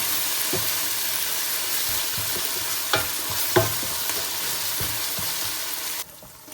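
Ginger paste stirred in a hot frying pan gives a continuous sizzle with a few sharp spoon scrapes and knocks, close and fairly loud, cutting off near the end.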